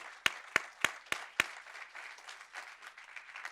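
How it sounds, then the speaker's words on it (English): A few sharp claps ring out at the start, then a steady patter of applause from a board meeting audience continues throughout. "You should all give yourself a round of applause."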